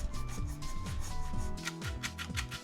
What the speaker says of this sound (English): I need to fucking sand this part down.